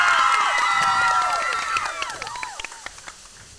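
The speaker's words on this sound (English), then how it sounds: "Let's have a big round of applause for Javier right there." A high school crowd erupts in cheering and shrill shouts over applause, the voices sliding down and tapering off while scattered individual claps and whoops linger near the end.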